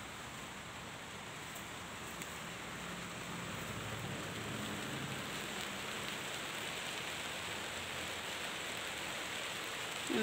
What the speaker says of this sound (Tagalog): Winter season na kasi kaya ano, umuulan na.